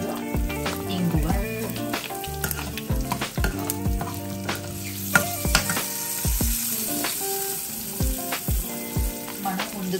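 Dried red chillies and spices sizzle in hot oil in a pan for coriander chutney, with steady crackling and scattered sharp pops, plus occasional stirring clinks, heard close and alone.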